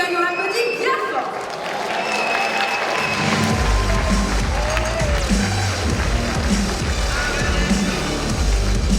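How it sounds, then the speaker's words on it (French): A crowd at a cosplay competition on stage breaks into loud, sustained applause and cheering as a costumed Alice performer arrives, dense clapping building after a quieter start and continuing steadily to the end. "Avec le personnage de Alice qui arrive sur scène, on l'applaudit bien fort."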